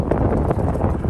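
Wind buffets the microphone on a bridge high over the Mississippi River, a steady close rumbling roar with gusty swells throughout.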